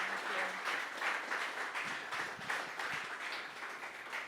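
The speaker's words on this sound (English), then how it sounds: "let's give a round of applause for Siri and Andrew" An audience applauds two panel speakers after a talk on ESG investing, the clapping steady and fairly quiet and soft throughout, heard from a distance in the room.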